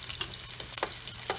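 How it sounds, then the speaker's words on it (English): Oil sizzles steadily in a pan as chunks fry during stovetop lasagna preparation, a continuous close hiss with a few brief louder crackling bursts and no talking. "Just get the slight sizzle in there."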